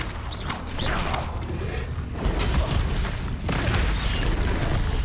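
The Confringo spell explodes in the video game Hogwarts Legacy, with rumbling booms and creaking, grinding mechanical effects layered over a dense, loud game soundscape.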